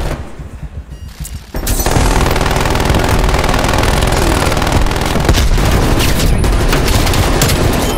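Sentry turret gunfire in Black Ops Cold War multiplayer on the Express map, starting as quieter shots and then becoming a dense, continuous burst of loud automatic fire with booming impacts.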